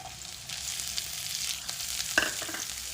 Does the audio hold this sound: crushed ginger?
yes